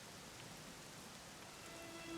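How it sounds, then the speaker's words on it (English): Steady, soft rain in the video game Dragon Quest XI forms an even hiss that runs unbroken throughout, with no voices over it. "You know, it was raining like this the last time I ever saw her."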